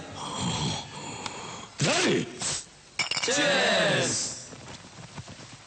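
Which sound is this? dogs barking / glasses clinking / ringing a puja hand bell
glasses clinking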